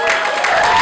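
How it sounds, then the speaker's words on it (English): Wedding guests break into applause right after a toast to the couple, a dense, steady wash of clapping filling the room for a moment, with some voices mixed in. "if you could please join me in giving a round of applause to Muzahid and"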